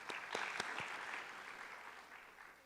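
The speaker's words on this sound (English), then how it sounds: "So another round of applause for our supporters." Audience applause at a university honors colloquium for its sponsors, a steady wash of many hands clapping with a few sharper claps early, sustained and fading slightly toward the end.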